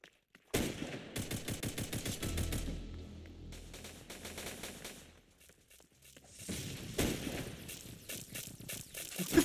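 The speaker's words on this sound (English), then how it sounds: "He's literally shooting at the wall and he's doing damage to me" Rapid automatic gunfire in a video game crackles in dense, fast bursts, pausing briefly in the middle before another volley resumes, loud and close with no talk over it.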